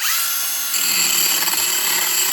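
A power drill fitted with a grinding stone attachment whines at high speed as it grinds, a steady close buzzing tone with a slight shift in pitch partway through.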